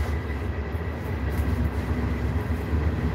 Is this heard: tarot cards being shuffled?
no